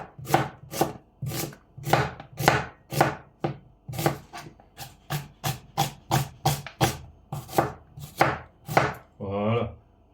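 An onion being chopped with a knife on a board, a fast, even run of about twenty crisp close knocks followed by a short scraping sweep at the end.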